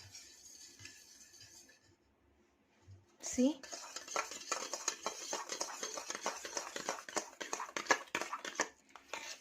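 A spoon stirs a red wine and tea face gel mixture in a bowl, giving quick clinks and scrapes against the bowl after a quiet start, with faint rustling before the stirring begins.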